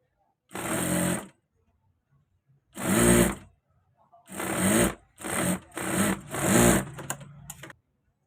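A sewing machine stitches trousers in six loud, buzzing bursts of whirring, each lasting about half a second to a second, separated by short pauses.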